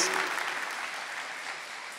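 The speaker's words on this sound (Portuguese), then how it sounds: "Isso, aplauda com força a palavra de Deus." Church congregation applauding after a Scripture reading at a morning service, a steady broadband wash of clapping from many hands that fades gradually and carries on alone without talk.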